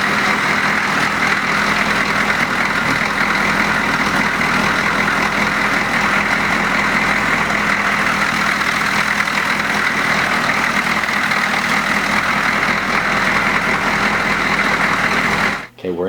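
A diesel truck engine idles steadily, a constant low rumble with a fine mechanical hum layered above, running unchanged and close until it cuts off abruptly at the very end.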